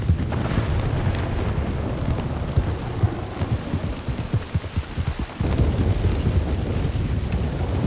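A thunderstorm in Red Dead Redemption 2 roleplay: steady heavy rain hisses throughout while deep thunder rolls and rumbles, swelling louder near the end.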